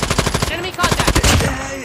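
Rapid automatic gunfire in a shooter video game, a close, loud stream of shots hitting the player in quick rhythmic bursts, with a voice mixed in near the end.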